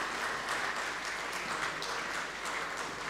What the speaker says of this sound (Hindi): ज़ोरदार तालियों के साथ इस्तकबाल करें डॉक्टर ज़ुबैर फ़ारूक साहब का